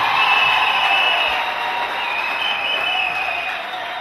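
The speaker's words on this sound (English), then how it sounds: "Clap for Jesus Christ." A church congregation claps during a prophetic worship service in Cameroon, producing a loud, continuous wash of applause that stays steady and fades slightly toward the end.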